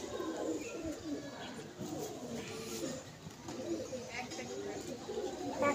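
Young pigeons coo softly in a home loft, low murmuring calls repeating close by at a quiet level, with faint background noise and occasional sounds around them.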